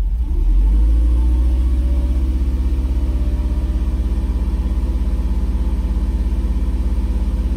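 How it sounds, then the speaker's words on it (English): A Mercedes SL500 engine starts up into a steady, loud, throaty running rumble that continues evenly throughout, close up with no voices. "I'm gonna rev it a couple times, see if any gas can leak out of the thing."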